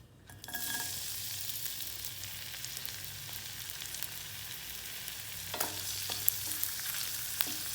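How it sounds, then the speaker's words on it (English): Green chilies, ginger and garlic hit hot oil in an open pan with a sudden burst, settling into a soft steady sizzle with occasional spatula scrapes and light clicks. "First, I will put the green chilies, ginger and garlic and roast it lightly."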